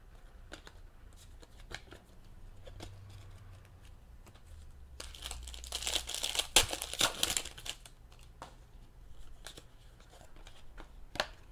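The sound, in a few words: opening Panini Elite football card packs, wrapper crinkling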